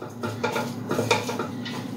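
A spoon stirs food around a pan at a cooking demonstration, producing close clinking and scraping against the metal in a quick irregular run with a low hum beneath.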